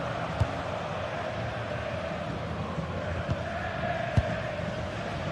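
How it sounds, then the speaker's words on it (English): Steady roar of a stadium crowd in a football video game, a continuous broad wash of cheering at even level with a few brief louder accents, heard alone without speech. "The crowd certainly think so. Just listen to them."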